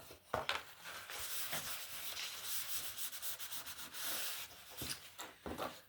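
A smooth bone folder rubbed firmly back and forth over paper in repeated strokes, close and quiet.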